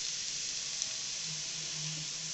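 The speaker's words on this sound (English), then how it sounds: "we'll be adding in the crushed ginger and the garlic, and we need to saute it for few seconds" Crushed ginger and garlic sauté with golden-brown onions in a hot pan, giving a steady, even sizzle throughout with no voices.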